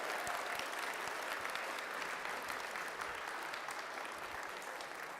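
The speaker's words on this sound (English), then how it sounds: "Let's give all of those teams a big round of applause for advancing" Steady, even applause from a crowd at a FIRST Tech Challenge robotics qualifier in Virginia Beach for the advancing teams, heard from a distance at low volume throughout.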